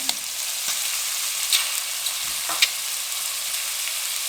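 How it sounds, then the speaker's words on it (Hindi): Finely chopped carrots hit hot oil in a frying pan for a soup-noodle dish, giving a steady, close sizzling hiss with a few brief stirring clicks, no voices. "अब इसके साथ हम बारीक कटी हुई गाजर डाल देंगे"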